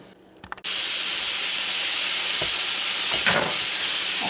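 Green peppers and onions sizzle loudly in a hot pan for a Sloppy Joe base, a steady bright hiss that bursts in after a brief quiet start and holds to the end, with faint clinks along the way.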